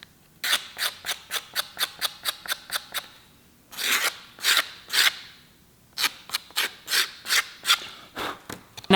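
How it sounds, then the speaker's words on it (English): A razor blade trims the layered leather welt of a knife sheath in quick, rhythmic strokes, close and crisp, in bursts of rapid cuts separated by short pauses, with no talking. "Now that I've gone ahead and done a light pass with the razor"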